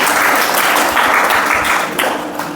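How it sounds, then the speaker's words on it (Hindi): An audience at a lecture breaks into sustained applause, a dense, loud wash of many hands clapping that holds steady before easing slightly. "इसके लिए ताली बजाओ।"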